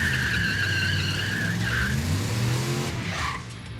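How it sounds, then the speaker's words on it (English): A car doing a burnout at a dragstrip, its tires squealing in a sustained high screech over a loud, steady engine roar, with the pitch shifting partway through. "Please do a burnout. Here comes a burnout."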